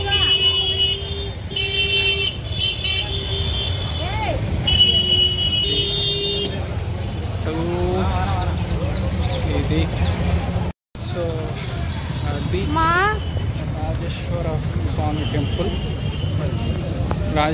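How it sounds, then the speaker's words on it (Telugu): Busy street traffic in Kumbakonam on the eve of Diwali, with a dense wash of vehicle noise and repeated car and bus horn toots, strongest early on, while voices talk over the din. "సో రేపు దీపావళి కాబట్టి ఫుల్ ట్రాఫిక్ ఉంది ఇక్కడ కుంభకోణంలో"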